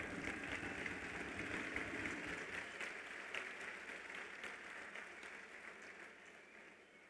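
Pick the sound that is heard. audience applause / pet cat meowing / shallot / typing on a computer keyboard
audience applause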